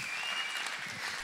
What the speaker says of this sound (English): That was a half a clap.